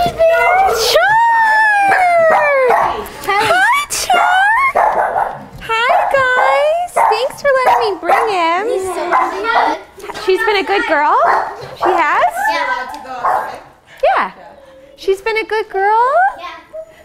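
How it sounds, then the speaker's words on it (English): Dogs bark and yelp in excited bursts close by at a puppy training playdate, mixed with a child's high-pitched voice and other talk throughout. "Who's barking?"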